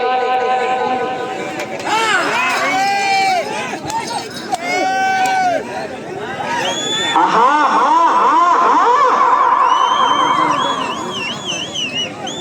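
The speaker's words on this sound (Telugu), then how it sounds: "కేకలు కేరింతలు" Crowd at a village bullock cart pulling contest shouting and cheering loudly and continuously, with overlapping voices, whistles and excited yells rising and falling throughout.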